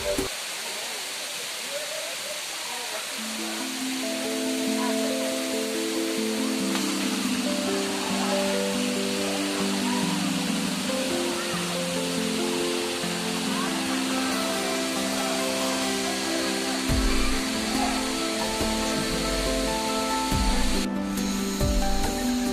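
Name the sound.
waterfall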